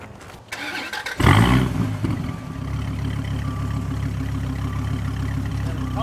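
A starter whirs briefly, then a 2014 Dodge Viper GTS Coupe's V10 engine with side exhaust catches with a loud roar and settles into a deep, rumbling idle.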